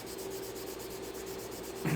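Steady, even rasping of hand sanding on a car fender's painted surface, continuous and close, with a slightly louder scrape at the very end.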